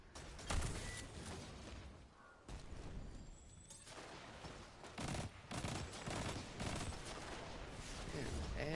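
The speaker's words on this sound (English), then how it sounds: "Man, everyone's shooting at me." Rapid gunfire aimed at the player in a shooter video game, bursts of shots crackling in overlapping volleys, fairly quiet overall with brief pauses between clusters.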